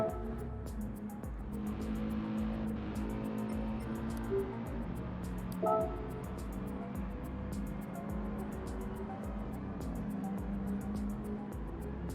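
Race car engines droning steadily in the Rallycross GT racing game, a continuous mid-level hum with a few brief louder blips as cars shift or pass.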